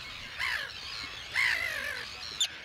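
Nesting Arctic terns at a seabird colony on the Farne Islands, Northumberland, giving harsh, grating calls in two or three short bursts over steady outdoor background noise.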